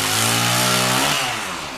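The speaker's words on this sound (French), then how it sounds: "allume sa tronçonneuse pour une nouvelle bataille sanglante" A chainsaw engine revs loud and close, a sustained buzzing whine that holds steady, then winds down slightly toward the end. It plays as a sound effect in a Zombicide board game session.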